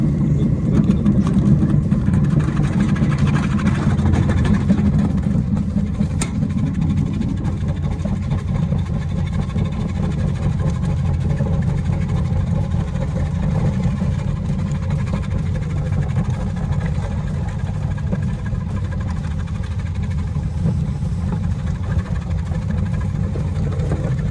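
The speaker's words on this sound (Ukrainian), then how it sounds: "Зараз будемо нарізати почищену, цибулю на слайсі." An STvega Combo industrial vegetable cutter slicing peeled onions runs with a loud, steady machine drone and mechanical hum throughout, with a few faint clicks near the start and no voices.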